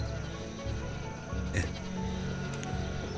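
Sheep bleat in the video game Banished, amid a busy, synthetic-sounding soundscape with steady insect-like chirring and layered background tones, no voices.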